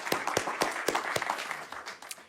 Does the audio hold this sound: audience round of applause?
yes